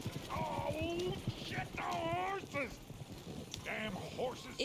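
A loose horse in the video game Red Dead Redemption 2 clatters along with steady hoofbeats and a few whinnies, close and clear, while voices talk over it.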